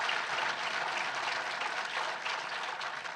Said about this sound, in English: if we can take some time to congratulate and applaud our scientists that are all here tonight